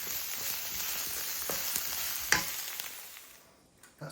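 Garlic sizzles steadily in a hot pan for chicken pot pie filling, with a few scraping stirs of a utensil across the pan; the frying hiss fades toward the end.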